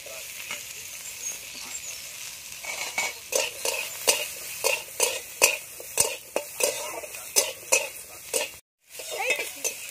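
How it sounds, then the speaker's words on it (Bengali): Whole garlic, ginger and onion sizzling in a pan, broken by a rhythmic series of scraping stirs and utensil clinks, close up, with a brief silent gap near the end. "এবার গোটা রসুন আদা পেঁয়াজ ভেজে নেব।"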